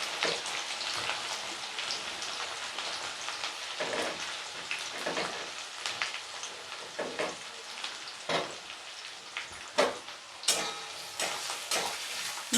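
Chopped onions with bay leaf and whole spices fry in hot oil for Bengali-style mutton kosha, giving a close, steady crackling sizzle broken by sharp pops and stirring clatter.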